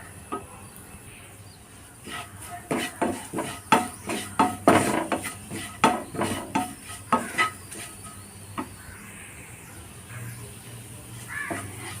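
Chicken masala and pepper powder are mixed in a pan, producing a run of rhythmic scraping and tapping stir strokes, close and fairly loud, before the strokes die down into quiet.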